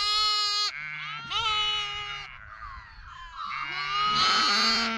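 Sheep and young lambs bleat in a close, overlapping chorus, several high wavering calls and a few lower ewe bleats trading back and forth with barely a pause.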